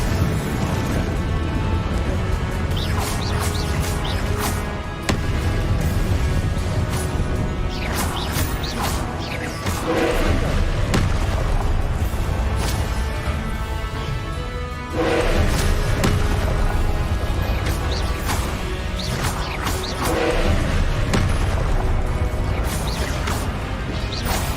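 Confringo explosive spell blasts in the video game Hogwarts Legacy: loud, repeated booming crashes and thuds over a dense, continuous roar of combat noise, with no speech.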